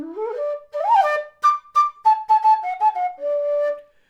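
A Nightingale low D whistle by Alexander Karavaev plays a short melody alone: a rising opening note, then a run of quick separated notes, ending on a long held low tone, clear and close.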